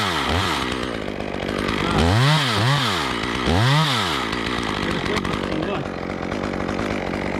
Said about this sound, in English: I can do it with the chainsaw.